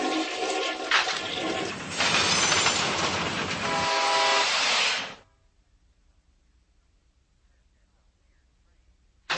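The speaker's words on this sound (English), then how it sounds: "This is a weird train." A cartoon train from a stop-motion toy world rolls along loudly with rattling wheels and a blaring horn for about five seconds, then cuts abruptly to near silence.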